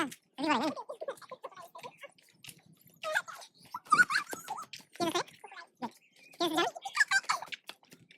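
A dog near a lakeside spot in Lumbini, Nepal, gives a series of close, short whines and yelps in broken bursts, with quiet gaps between them.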